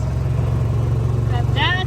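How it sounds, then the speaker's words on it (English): A Scout vehicle's engine drones steadily while driving along a wooded track, a low pulsing rumble up close with a person talking over it near the end. "Dad and I are going for a ride on the Scout."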